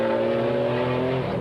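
GT race cars in the 1995 BPR Endurance GT series at Paul Ricard roaring past the pits, a loud sustained engine howl from close by that holds steady and then tails off slightly as the cars go by.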